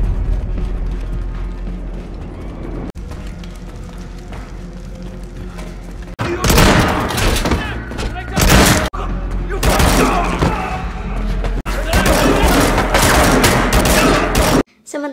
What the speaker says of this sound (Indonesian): Dengan kemampuan menembak yang sudah ia latih selama setahun, Brian tidak begitu kesulitan menghadapi mereka